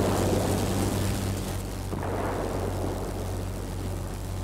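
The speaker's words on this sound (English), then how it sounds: "The storm is too heavy." Heavy rain and thunderstorm in the World of Warplanes video game make a dense, steady roar over a low droning aircraft engine, with a faint rumble near the middle.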